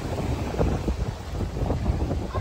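Strong wind blows at a beach, buffeting the microphone with a continuous, loud, rumbling roar that stays steady throughout.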